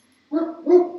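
Dog barking in the background of a room, two quick barks in close succession, moderately loud.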